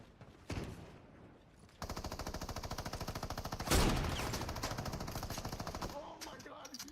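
Rapid automatic gunfire from a video game shooter rattles on in a steady stream for several seconds, broken by a louder burst midway, with a brief shot near the start and the firing trailing off at the end.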